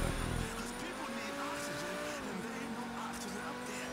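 A car brakes hard in GTA Online, a loud engine tone dropping as the vehicle slows, with a short tire skid, close and unbroken.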